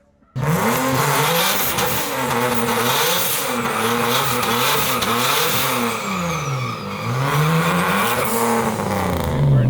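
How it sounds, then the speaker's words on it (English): A stage 2 single-turbo Nissan 370Z on NISMO beadlock wheels does a burnout, engine revving hard and wavering in pitch while tires squeal, loud and close for the whole stretch without talk. "Did the burnout already, got the tires warm"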